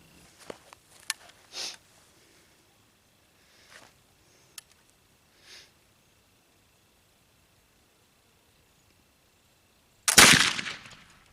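Long quiet stretch with a few faint clicks and handling noises, then a single loud, sharp gunshot from a gun loaded with homemade black powder, decaying briefly near the end.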